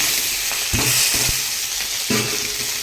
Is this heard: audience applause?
no